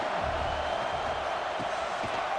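Stadium crowd noise from a College Football 26 game at Michigan State, a steady, loud broadband roar with no breaks, with faint commentary speech mixed in.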